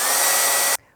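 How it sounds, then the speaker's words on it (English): A hairdryer drying glue on fabric blows a steady, loud, close whooshing rush that cuts off abruptly near the end, leaving near silence. "if you're in a hurry for this glue to dry, a hairdryer will work great"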